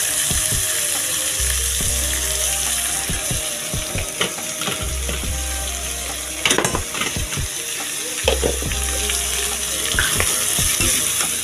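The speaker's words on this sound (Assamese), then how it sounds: "গেছটো অকণমান কমাই লৈছোঁ আৰু ভাজি আছোঁ যে তলত ধৰি যাবও পাৰে" Pigeon meat sizzles steadily in a hot pan after salting, with repeated scraping stir strokes and clinks cutting through the frying hiss; a low background hum rises and falls in three stretches, and no one speaks.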